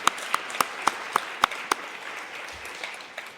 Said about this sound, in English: just a round of applause for the NHRA team